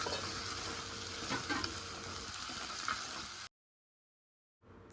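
Tomatoes being stirred and sautéed in a clay pot for village-style chicken curry, a steady close sizzle with scraping stirs that cuts to silence before resuming briefly.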